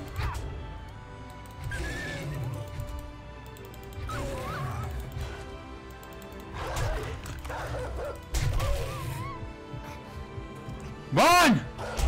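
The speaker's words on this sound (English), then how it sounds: "Well, of course they had to have a dog!" Dog barking in the survival video game 7 Days to Die, with several bursts spread through the clip alongside a horse-like whinny and other game effects, while a player talks over them.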